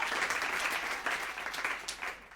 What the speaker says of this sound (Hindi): एक बार जोरदार तालियां हो जाए Hyundai Alcazar के लिए।